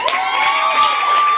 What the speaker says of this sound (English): Give a clap to Poet Nation.